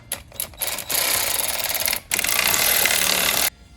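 Bolts on Fiesta ST shifter bushes being tightened with a power tool, which gives two short bursts and then two longer sustained buzzing runs, loud and close, with no talk.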